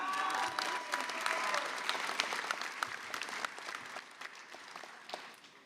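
A commencement crowd applauds graduating master's and doctoral students of a college of public health, dense sustained clapping that fills the space and slowly tapers off, with no voices over it.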